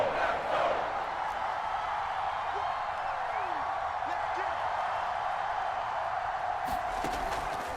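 Stadium crowd in the Madden NFL 22 video game roars steadily before a big third down, a dense, sustained cheer with scattered whoops that holds at an even level throughout.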